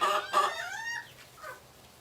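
Chickens on a farm cluck and squawk close by, a few quick calls in succession, with a white Polish hen among the flock.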